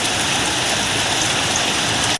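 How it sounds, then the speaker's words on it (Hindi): Steady rain falls in Khairpur alongside strong winds, a dense, even hiss of drops pouring on surfaces for a couple of seconds before cutting off abruptly. "खैरपुर में तेज हवाओं के साथ बारिश, गर्मी का जोर टूट गया।"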